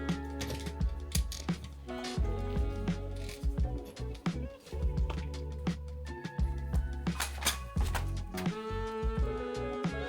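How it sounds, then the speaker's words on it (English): A seized brake caliper grinds and scrapes as the wheel is turned by hand, giving a dense mechanical rasp with uneven ratcheting clicks and squealing overtones that runs steadily for about ten seconds. "If there was ever any doubt about this caliper being seized, then this ought to do it."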